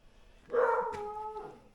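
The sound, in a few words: dog barking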